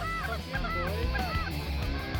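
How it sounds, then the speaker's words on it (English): A flock of geese honks repeatedly in overlapping calls, a dense chorus of nasal honks from many birds flying overhead during a waterfowl hunt with decoys set out. "Ducks going this way there and geese going that way."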